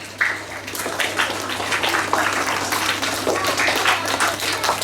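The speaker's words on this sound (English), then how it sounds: "clap for yourself, clap for yourself" Class 3 schoolchildren at a school assembly clap for themselves, giving a lively uneven round of many small hands heard up close, with a steady low hum running beneath it.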